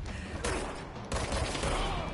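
Rapid bursts of gunfire in the video game Control, heavy automatic shots coming in two sharp onsets close together, loud and dense with no talk over them.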